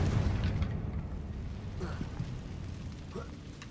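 A Confringo blasting spell bursts in Hogwarts Legacy, a heavy low boom at the start that decays into rumbling debris and scattered pops.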